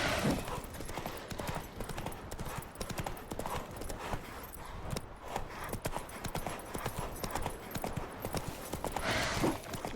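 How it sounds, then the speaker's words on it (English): A horse gallops in The Witcher 3, with quick, rhythmic hoofbeats pounding steadily and fairly close, at moderate loudness and without a break. "Se cansa el caballo, pobrecillo."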